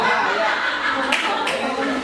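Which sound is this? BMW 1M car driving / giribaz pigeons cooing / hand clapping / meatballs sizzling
hand clapping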